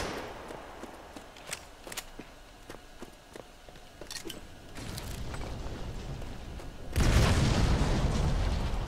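Grenade explosions in the mobile shooter Modern Combat 5, with sharp booms and pops scattered over a run of footsteps, then a heavy, sustained blast rumble swelling loud near the end.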